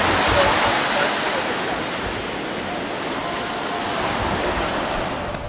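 Sea waves on a southern coast break and wash in a steady, loud roar of surf that fills the scene without pause, with no voices over it.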